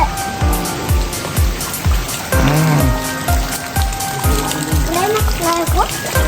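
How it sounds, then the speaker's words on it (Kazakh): Water streaming down a mountainside like rain in the countryside, a steady splashing hiss running throughout beneath repeated low thumps, with children and adults talking over it. "таудан су ағып жатыр екен жаңбыр құсап"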